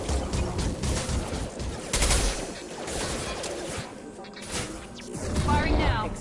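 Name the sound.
gunfire from weapons in video game Mass Effect 2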